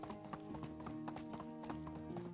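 A horse's hooves clip-clop at a steady walking rhythm in Medieval Dynasty, close and fairly quiet, with a brief whinny-like tone and no talk over it.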